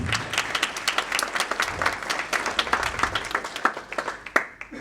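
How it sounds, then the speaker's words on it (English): A modest crowd at a business launch event claps in uneven, distinct bursts, individual hand claps audible within the applause rather than a dense roar. "you can give them a round of applause to get that right."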